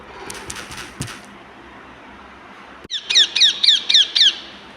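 A crow's cawing in a kindergarten puppet show comes as a quick run of five or six loud, harsh squawks in a row, following a few faint knocks and thuds.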